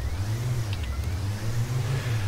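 Police car engine in the Autobahnpolizei Simulator video game, a steady low hum of driving that holds evenly throughout with no talk.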